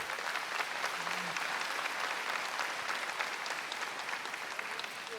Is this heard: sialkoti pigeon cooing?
no